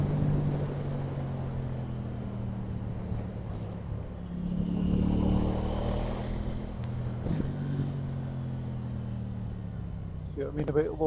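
A lorry passes on a road at a corner, its deep engine drone rising and falling over steady wind rush, fairly close and loud throughout.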